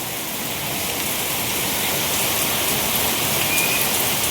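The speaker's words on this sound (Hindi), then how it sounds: "और लगातार ऐसे ही बारिश हो रहा है" Heavy rain pours down without a break, a loud dense hiss that stays steady throughout with no voices.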